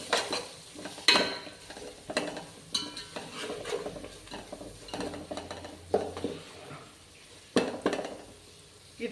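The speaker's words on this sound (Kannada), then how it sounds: "ಇದೆಲ್ಲನೂ ಚೆನ್ನಾಗಿ ಒಂದು ಸ್ವಲ್ಪ ಬಾಡಿಸ್ಕೊತೀನಿ" Vegetables with a spoonful of chili powder sautéed in a pan for vegetable pulao, with soft sizzling under repeated scraping and clinking of a spoon stirring against the pan, fairly close and moderate in level.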